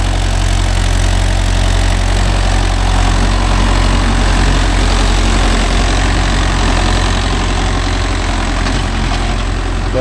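A Mahindra Yuvo Tech Plus 585 4WD tractor pulls a five-tine cultivator through a field, its engine loud, close and steady with a continuous low drone and rumble throughout.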